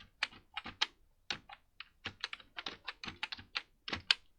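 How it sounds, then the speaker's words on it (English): Steady typing on a computer keyboard, a rapid run of crisp, close clicks in an uneven rhythm with brief pauses between bursts and no voices. "So here we type instrumental."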